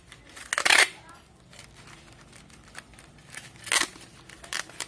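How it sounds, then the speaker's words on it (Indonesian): Packing tape pulled and pressed onto a cardboard box while wrapping a carnivorous Sarracenia leucophylla plant for shipping, with a few sharp ripping, crackling bursts between quieter rustles. "kita lakban."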